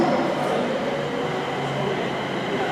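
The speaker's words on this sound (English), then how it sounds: "the 1726 should be arriving now at 1723 to take me down the line to Stafford" A London Northwestern Railway train pulls into a station platform with a steady, loud rumble and hiss that holds unchanged throughout, with no voices over it.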